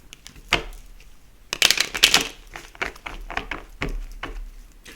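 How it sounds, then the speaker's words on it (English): Playing cards shuffled by hand in a few quick bursts of crisp riffling and tapping, close and fairly loud with short pauses between. "Let me shuffle them real quick."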